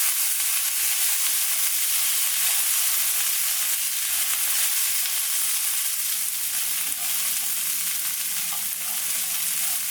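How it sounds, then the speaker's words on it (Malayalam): Green peas and capsicum sauté in a pan for mint rice with a loud, dense, unbroken sizzle that holds steady throughout, heard close and with nobody talking. "ഈ വെജിറ്റബിൾസ് ഒന്ന് സോട്ടായിട്ട് വന്നോട്ടെ"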